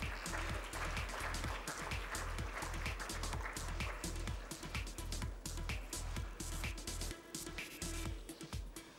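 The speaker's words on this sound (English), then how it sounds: "Let's give them a huge round of applause, ladies and gentlemen." An audience at a tech keynote session applauds steadily for several seconds, a dense patter of claps with a pulsing rhythm, moderately distant and fairly quiet.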